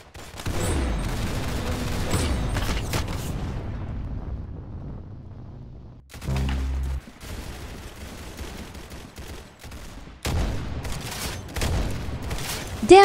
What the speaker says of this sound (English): that was a cool sniper shot, no scope